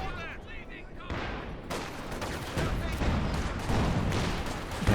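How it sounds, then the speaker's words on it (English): Artillery shells and gunfire in Company of Heroes 2, a dense barrage of sharp booming blasts and rattling shots, growing louder toward the end, with a commentator talking over it. "the artillery coming down from the Axis in the middle, making it tough for the Allies to secure the victory point there"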